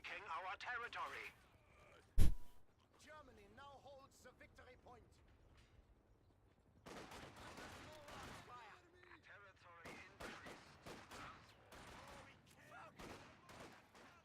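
MG42 machine gun fire in a Company of Heroes match, coming as scattered bursts and a sharp loud crack early on, mixed with other battle noise under a talking voice.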